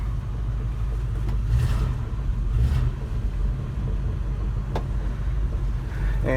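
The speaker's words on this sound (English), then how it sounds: "Put it in reverse just so you can see reverse working." A 1972 Chevy C10 pickup with a 350 small-block V8 idles steadily in reverse, its low engine rumble continuous and close with a slight swell in the middle.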